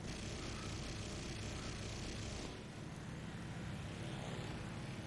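A Zero fighter plane's propeller engine in the War Thunder video game drones loud and steady, with a slight shift in tone midway and no other sounds.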